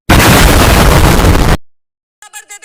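A car packed with 200 kg of explosive detonates in a roaring, loud blast that lasts about a second and a half and then cuts off sharply. After a silence come a few short tonal pulses.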